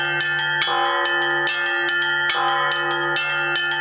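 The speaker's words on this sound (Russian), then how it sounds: "Управлять большими колоколами только с виду сложно." Large church bells rung by a bell-ringer at a local church, a loud ringing peal of overlapping tones struck in a steady rhythm, with strikes roughly every half second and long sustained resonance, no voices.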